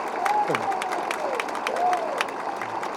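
A crowd at a Tamil Nadu political rally claps and cheers for a speaker, a moderately loud patter of many hands with scattered voices calling out over it.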